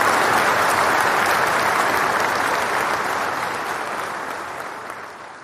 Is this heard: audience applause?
yes